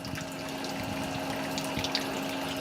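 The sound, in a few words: bird bath fountain pump circulating water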